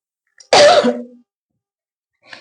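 A single harsh, close cough from a person with a cold bursts out, followed by a faint breath or throat sound moments later.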